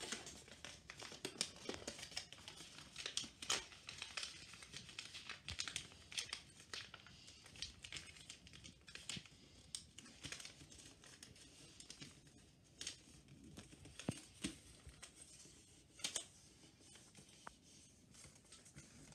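Paper being creased and folded into an origami jumping mouse, a steady run of soft crinkles, rustles and crisp snaps up close, quiet overall with no talking.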